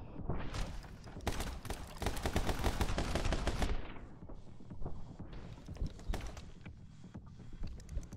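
Rapid video game gunfire from My Friend Pedro rattles out in a dense, loud automatic burst, then thins into scattered single shots and clanks over steady game noise.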